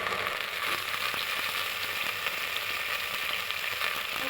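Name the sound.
soybean oil poured into a hot steel pot, sizzling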